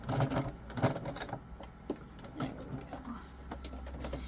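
A sewing machine stitches through kilt fabric in short bursts, with faint rhythmic needle clatter and pauses; a person speaks briefly.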